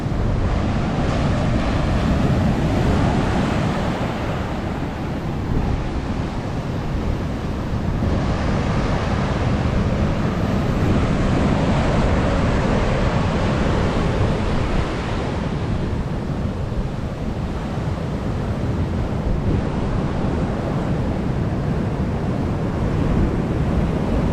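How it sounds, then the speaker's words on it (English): Heavy ocean surf from Hurricane Nicole crashes continuously against the shore in Volusia County, Florida, a dense roaring wash of breaking waves with wind buffeting the microphone throughout. "Still a lot of heavy water coming in."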